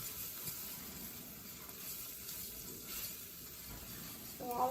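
Rice sautéing in a pan with amarillo seasoning being stirred in, a steady soft sizzle and crackle running the whole time at moderate closeness, with a brief clink of utensil near the end.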